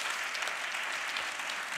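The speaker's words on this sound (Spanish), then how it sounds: "Otro aplauso para ellos." An audience at a live conversation event applauds guests Jon Sistiaga and Enric González, a steady wash of many hands clapping at moderate volume, slightly distant, with no voices over it.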